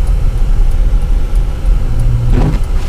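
An all-wheel drive car drives through a snowstorm, heard from inside as a loud, steady low rumble of engine and road, with a short rising swell near the end.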